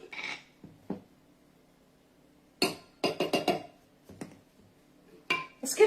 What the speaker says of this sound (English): whisk and whisk it good